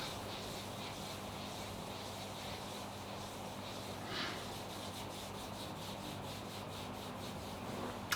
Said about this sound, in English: Give it a rub.